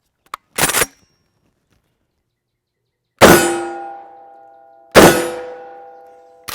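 A DP-12 double-barreled pump shotgun fires Federal defense loads at a steel target about 15 yards away. Two sharp blasts each end in a loud ringing clang that fades slowly, after a brief tick and short burst at the start.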